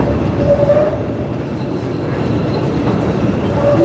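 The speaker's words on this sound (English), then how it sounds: "There's the pink line heading through there. CTA trains." A Chicago CTA Pink Line elevated train passing on the tracks above a downtown street, a loud, steady rumble of wheels with faint metallic squeals, close by and continuous with no talking.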